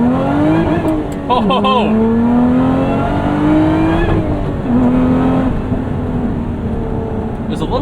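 Modified 2024 Lotus Emira fitted with top-shelf coilovers, pulling hard under full throttle, its loud engine note climbing steadily with a shift partway through, close and sustained, while an occupant whoops over it.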